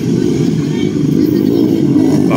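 A 4-valve motorcycle engine revs loudly and steadily at a flat track race, with a dense, continuous roar close by and crowd noise mixed in underneath.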